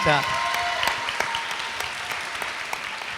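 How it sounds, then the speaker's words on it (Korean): Applause from an audience at a village economy concert after remarks about a culinary high school, moderately faint and steady with a few sharper claps standing out, with a brief voice at the start. "큰 박수 부탁드립니다."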